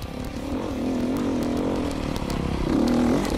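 A Beta 500 dirt bike is ridden over whoops near Ridgecrest, with the front wheel lofted. Its engine drones close and steady, then swells louder near the end.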